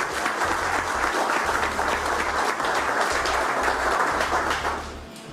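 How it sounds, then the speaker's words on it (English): An audience at an automotive detailing festival's polisher class applauds together, a dense, loud, steady wash of clapping that holds for several seconds and then begins to taper off at the end. "How about a big round of applause?"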